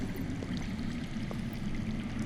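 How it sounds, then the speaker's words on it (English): Water rushes steadily underground in a cave-like fantasy game setting, a continuous low, even flowing wash with no breaks. "That's water. I hear water. From underground."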